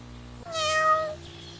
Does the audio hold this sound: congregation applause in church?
no